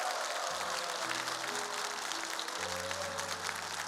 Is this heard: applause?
yes